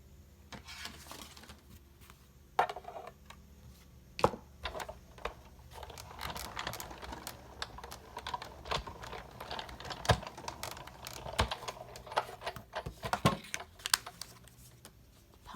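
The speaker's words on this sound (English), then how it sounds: "I'm going to cut him out with my die cutting machine" Die cutting machine cutting out an ornate paper frame shape for a Halloween card: a run of sharp clicks and clacks with irregular mechanical ticking, moderately close and fairly quiet.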